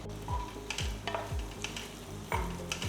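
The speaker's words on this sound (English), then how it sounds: "Saute the onions for about 3 minutes." Chopped onions and slit green chillies sauté in a pan with a soft sizzle, broken by repeated scraping strokes of a spoon stirring against the metal, close and moderately loud.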